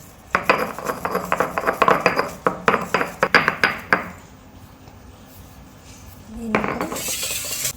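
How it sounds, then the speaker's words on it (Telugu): Ajwain (carom seeds) being ground into powder, a quick run of rapid rattling, clinking knocks for about four seconds, then a quiet pause and a brief rustle, close by with no talking. "తీసుకొని ఇప్పుడైతే దీన్ని మంచిగా పొడిలో చేసుకోవాలి."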